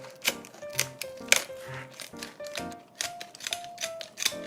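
Scissors snipping through the tough skin of a large predatory fish during filleting, a series of sharp close clicks and crunchy cuts repeating every half second or so over faint background music.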